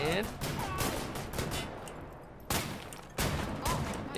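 Shotgun blasts in the video game Wolfenstein: The New Order, several heavy booming shots with decaying tails at irregular intervals, heard over game sounds with a voice speaking in between.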